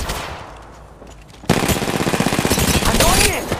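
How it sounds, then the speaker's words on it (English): Rapid automatic gunfire in the mobile battle-royale game Apex Legends Mobile, quiet at first then erupting into loud, sustained bursts of shots with overlapping bangs through to the end. "Hey, I'm getting shot!"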